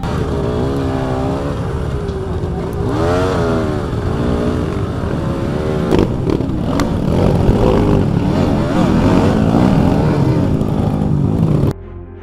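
Off-road trail motorcycles ridden during an organized trail event in Luwung Tengah, a protected wildlife habitat, their engines droning and revving steadily and fairly loud throughout, with rising and falling pitch as they pass.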